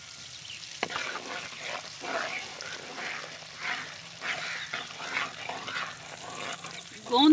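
Edible gum (gond) fries in hot ghee with a soft, continuous sizzle and gentle stirring, low and steady throughout, then a louder scrape at the very end.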